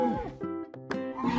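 A deep, rumbling T. rex toy roar with harmonic growls, loud and close, in a couple of bursts over about a second and a half.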